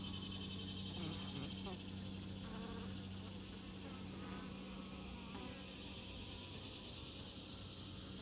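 Honeybees hum in a continuous low drone during an August hive inspection. The buzzing sits steady and close throughout, and a few faint voices and handling sounds come through underneath.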